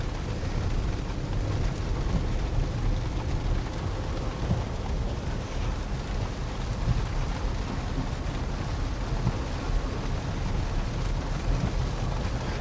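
Steady broadband rain and wind buffeting, with possible low thunder rumble, outdoors at Swamp Creek, Colorado; continuous and fairly loud throughout, with no voices.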